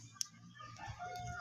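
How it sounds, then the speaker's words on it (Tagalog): Chickens in a rural yard make soft, faint clucks, with a brief sharp chirp early on and a few quiet calls afterward. "Mga manok guys."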